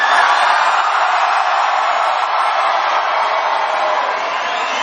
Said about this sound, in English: You are a beautiful crowd. You are a loud crowd.